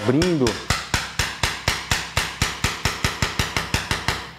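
A hammer drives a chisel into a calliandra tree trunk to split it, about twenty sharp, evenly spaced strikes ringing close and loud, each followed by a short decay.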